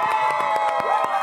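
Studio audience cheering and clapping for a host's entrance on a comedy show, a short, loud burst of whoops and shouts over rapid sharp claps.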